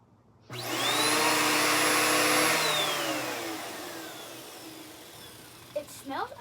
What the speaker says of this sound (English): My neighbors hate listening to this thing, but I got a vacuum out here for a reason.